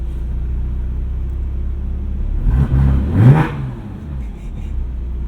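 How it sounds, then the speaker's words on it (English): A 2006 Porsche Cayman S with a full valved IPE exhaust idles with a low steady drone, then the valves open and the engine gives a sharp rev that swells and falls back, heard close from inside the car. "a valved IPE exhaust"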